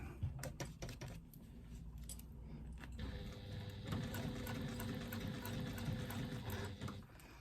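Sewing machine stitching fabric around a zipper pull, starting with a few short bursts and clicks, then running in a steady rapid whir up close for several seconds.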